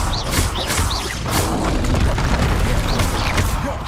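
The Confringo explosive spell fires in Hogwarts Legacy combat: repeated whooshing blasts and booming impacts land in quick succession amid spell effects, loud and close with continuous battle noise.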